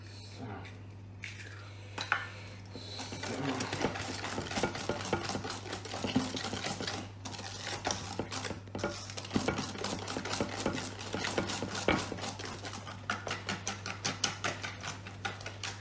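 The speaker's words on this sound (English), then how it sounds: "If you hold your bowl sideways, you can beat it a bit better, I find, and get some air in." Two eggs beaten by hand in a tilted bowl for an orange cake, a rapid run of light clinking, tapping whisk strokes against the bowl that grows busier and steadier, close up over a low hum, without talking.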